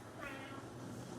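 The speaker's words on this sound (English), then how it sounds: "that cat was named Ginger" A cat named Ginger gives a single short, close meow over faint background noise.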